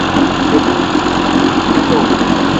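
A 1955 Johnson Seahorse 10 outboard motor idles at its slowest setting, making a loud, close, steady low rumble with a faint rhythmic knock.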